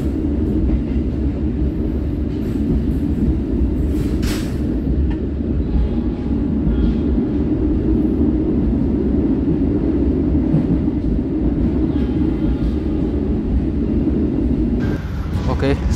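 Inside the Gumarang business-class train as it pulls away from Semarang, a loud, steady low rumble of the carriage rolls on throughout, with a few faint clicks and a brief hiss near the end.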